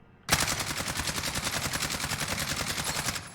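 CR-56 AMAX assault rifle fire in a video game, a single sustained automatic burst of rapid, evenly spaced shots that starts abruptly and stays loud and close for about three seconds.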